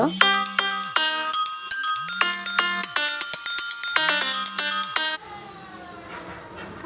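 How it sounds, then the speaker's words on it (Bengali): A phone ringtone plays loud and near as a bright repeating melodic tune, cycling several times before cutting off, followed by faint room sounds. "মাঝখানে একটা ফোন চলে আসলো রিংটোনটা হয়তো বেজেই গেল"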